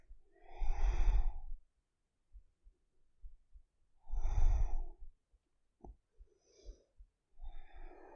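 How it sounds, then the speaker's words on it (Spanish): Slow abdominal breathing during a yoga session: two long, deep, breathy exhalations a few seconds apart, close and soft, followed by quieter breaths and small movements. "Aquí respiración abdominal 3."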